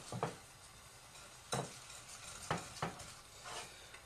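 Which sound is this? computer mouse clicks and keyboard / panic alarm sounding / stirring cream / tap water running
stirring cream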